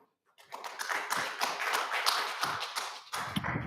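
After a talk about philanthropic redlining, the audience breaks into applause that starts sparse, swells into a full, even round of clapping in a room, and carries on steadily at moderate loudness.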